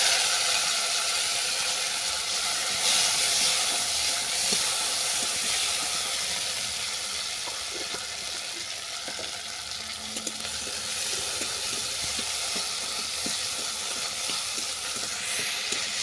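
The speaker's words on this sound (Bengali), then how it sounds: "কালো জিরে ভাজা হয়ে গেছে, এরপর দিয়ে দিলাম কেটে রাখা টমেটো।" Chopped tomatoes frying in hot oil with black cumin seeds in a pan, a steady dense sizzle with occasional stirring clicks, close and continuous with no talk.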